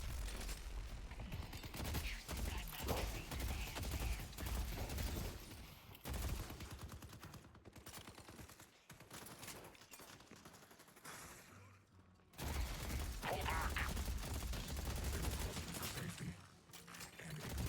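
Rapid gunfire shooting orbs in the hero shooter Deadlock: sustained bursts of close, loud automatic fire with brief pauses and mechanical clicks. Someone talks over the shooting at times.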